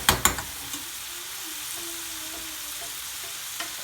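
Spices sizzling in a pan while cooking down for a Bangla chicken BIR curry with pre-cooked potatoes, a steady close frying hiss opened by a few quick clinks of a utensil against the pan.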